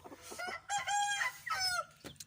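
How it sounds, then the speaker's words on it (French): A rooster crows close by at a backyard henhouse kept with six hens, one long harmonic cock-a-doodle-doo in rising and falling phrases, with a short clucking note at the end. "Voilà, il est là le coq."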